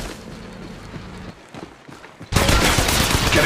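Sudden loud burst of rapid automatic gunfire in the mobile shooter Apex Legends Mobile, erupting after a stretch of quieter game sounds and continuing as a dense, sustained barrage to the end.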